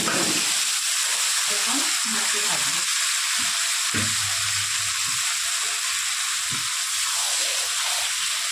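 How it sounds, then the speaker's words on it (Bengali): Marinated chicken fries in a pan with onion and garlic, giving a loud, constant sizzle throughout, with occasional stirring knocks and a voice speaking briefly underneath. "এর মধ্যে এখন আমি সেই ম্যারিনেট করা চিকেনটা সবটা দিয়ে দেবো এই যে ভেজে দিচ্ছি"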